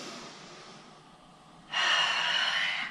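A person breathes in during a yoga session: a quiet, airy inhale builds faintly, then becomes a clear, close, breathy rush of air for the last second.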